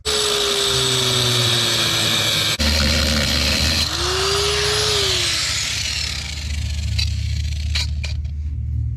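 A power tool cuts the gas pedal in a Nissan 300ZX. Its loud, steady whine holds over a low motor drone, dips and rises in pitch, then cuts out near the end with a few sharp clicks.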